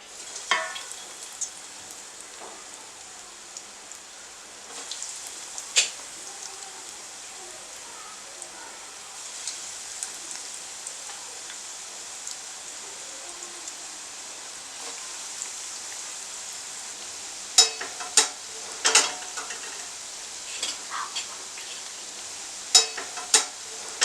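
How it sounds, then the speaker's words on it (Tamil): Potato balls deep frying in hot oil, a soft, low bubbling sizzle running throughout with scattered sharp pops and crackles growing more frequent toward the end. "எண்ணெய் காஞ்சிச்சு, நம்ம இதை போட்டு ஃப்ரை பண்ணிக்கலாம்."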